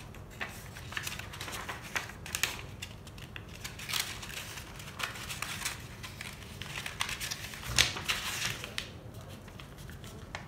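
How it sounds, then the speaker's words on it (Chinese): A sheet of origami paper for a pink pig is folded and creased, producing continuous soft crinkling and rustling close by with irregular crisp taps and one sharper crackle toward the end. "首先，我们要将纸张对折。"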